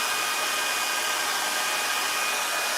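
A hair dryer blows steadily on a balloon, a continuous loud whooshing airflow with a faint high whine, no talking.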